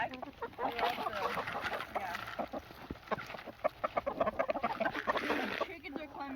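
A flock of backyard chickens clucks and squawks busily while eating black soldier fly larvae, with close, overlapping calls and scratching, and people talking nearby.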